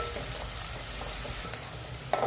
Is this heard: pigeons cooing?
no